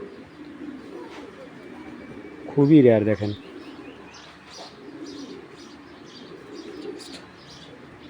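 Racing pigeons cooing at a breeding farm, soft repeated coos and a few chirps near the birds, with one louder burst midway, heard under someone talking throughout.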